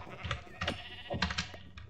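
Sheep bleating in the Minecraft video game, a few short wavering bleats spread across a couple of seconds, close and moderately loud with faint game background.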